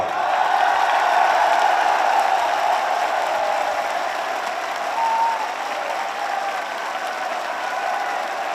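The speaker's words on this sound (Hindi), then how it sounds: "अगर मोदी जी का स्वागत करना है तो 1 मिनट तक जोरदार तालियां बजती रहनी चाहिए" Loud, sustained applause from a large crowd at an outdoor Delhi political rally in Japanese Park, a dense wash of clapping with some cheering that stays strong throughout and eases slightly near the end.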